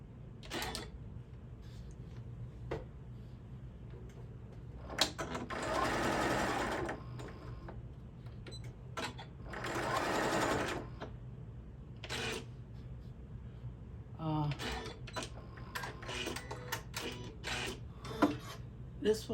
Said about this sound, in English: I'm just going to sew straight across that chalk line I made.